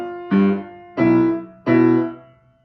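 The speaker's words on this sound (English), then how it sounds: "the first measure would sound like this" Three loud, close piano chords sound in even succession, each decaying before the next, playing the first measure of a duet from an adult level-one piano book.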